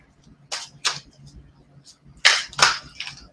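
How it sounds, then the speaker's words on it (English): Tarot cards being shuffled at a live reading, giving several crisp riffling bursts up close, with pauses between and no talking. "now we'll be shuffling the cards"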